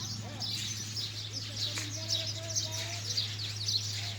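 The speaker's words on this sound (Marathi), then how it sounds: "हे सकाळ संध्याकाळ चिमण्यांचा आवाज येतो." House sparrows chirp in a rural village, a scatter of thin, bright calls spread across the clip at moderate distance over a steady low hum, with a few faint whistled notes mixed in.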